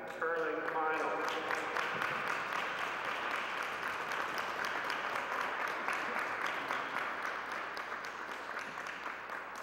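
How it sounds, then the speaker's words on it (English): A crowd applauds after two curling finals, a continuous wash of clapping from a large arena audience heard at a distance for the full stretch, with some brief voices near the start. "a round of applause for two fantastic curling finals"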